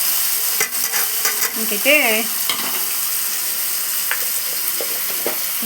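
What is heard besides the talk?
tomatoes frying and cooking in a pan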